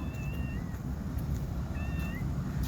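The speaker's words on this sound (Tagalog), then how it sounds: "Yung Pusa. yung malaki." A cat meows twice in a Dubai park, short rising calls heard over steady outdoor background noise, with no talk.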